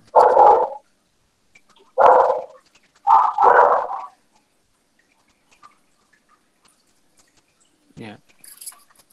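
A dog barks three times nearby in short, separate bursts, followed by a long quiet stretch with a few faint noises at the end.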